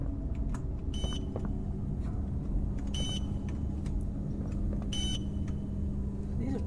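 Electronic beeps in Poppy Playtime Chapter 2, three short bright tones spaced about two seconds apart over a steady low hum and ambient game noise.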